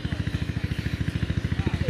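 A village machine's engine chugs in rapid, even thumps just after starting, a loud close pulse that keeps a steady rhythm throughout.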